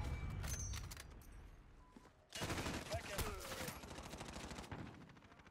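Bursts of rapid automatic gunfire in Call of Duty crackle at low volume, a first volley giving way to a brief lull and then a denser, sustained spray, with faint voices underneath.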